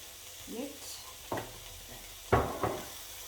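Onions fry in a pot for a cowboy stew, a faint soft sizzle broken by a few short stirring clatters, with a brief voice in the background.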